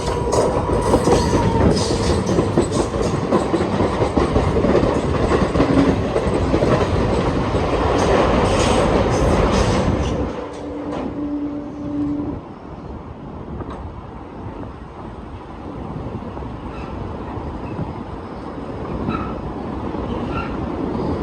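An Indian Railways MEMU train passes close by at a crossing, a loud, dense roar of wheels and clattering carriages for about ten seconds that then drops to a quieter, steady rolling rumble.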